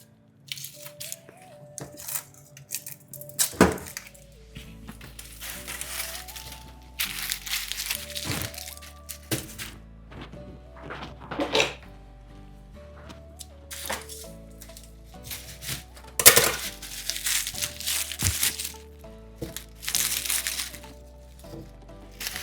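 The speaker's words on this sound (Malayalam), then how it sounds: "ഇനി നമുക്ക് വെളുത്തുള്ളിയെല്ലാം പൊളിച്ച് അതൊന്ന് പേസ്റ്റാക്കി നമുക്ക് വെക്കാം" Garlic cloves being peeled by hand, a run of dry papery crackles, crinkles and sharp snaps that come in irregular bursts, close and fairly clear, with faint background tones.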